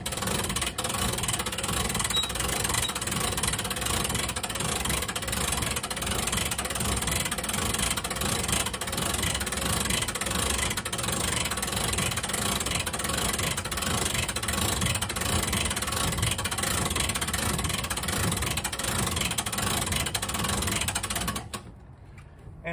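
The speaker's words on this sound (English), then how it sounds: "Okay, I'm gonna start cranking it." A 1995 Coleman Fleetwood pop-up camper raised by hand crank gives a continuous, steady grinding whir, close and fairly loud, running unbroken for about twenty seconds before stopping abruptly.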